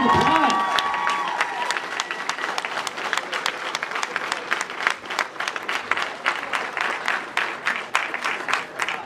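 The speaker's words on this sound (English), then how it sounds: "Let's give them another round of applause." An audience at an anime convention panel (Sakura-Con 2011) applauds, a dense, loud, sustained wave of many clapping hands, with a voice briefly audible at the start.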